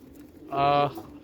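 A male pigeon gives one short, rounded coo, clear and fairly close, standing out against a quiet room background.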